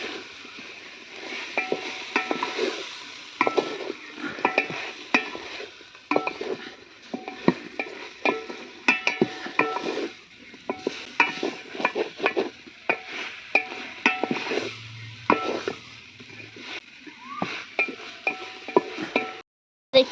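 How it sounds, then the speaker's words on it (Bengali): Boiled potatoes and vegetable stalks are stirred in a pot over a clay stove, giving repeated scraping and clacking strokes of the spoon with a soft sizzle beneath, close and steady. "যে সিদ্ধ করা ডাঁটার আলুগুলো দিয়ে দেবো, খুব ভালোভাবে নেড়ে নেব"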